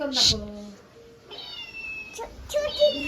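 A single loud cat meow at the start, followed by a quieter mew and some background rustle and faint tones.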